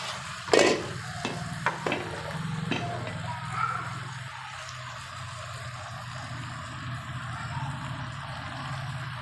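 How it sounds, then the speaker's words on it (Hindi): Fenugreek dropped into mixed vegetables cooking in a pan without water, a few sharp clatters at the start, then a low steady sizzle that runs on quietly. "अब हम इसके अंदर मेथी डाल देंगे।"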